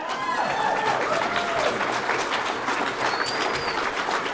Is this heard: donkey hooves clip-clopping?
no